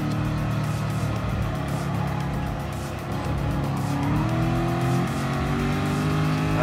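Race cars from the 2011 Le Mans Endurance event in Gran Turismo Sport roar around the track, with engines rising and falling in pitch and tires squealing, loud and continuous with no talk.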